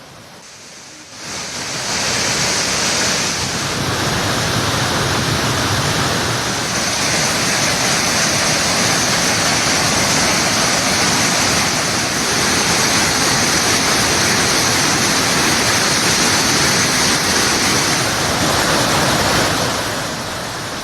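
Suruli waterfall roars at full, aggressive flow: a loud, steady rushing wash of water that starts abruptly after a brief quieter moment and continues unbroken up close.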